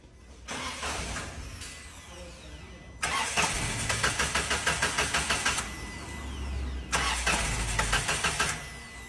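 A Peugeot 301 with a rebuilt engine cranks repeatedly without catching, the starter whirring in rhythmic bursts separated by short pauses, loud and close in a garage setting.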